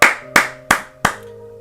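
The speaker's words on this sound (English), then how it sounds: "let's give a round of applause" Four sharp hand claps in a steady, even rhythm, close and distinct, with nothing else around them.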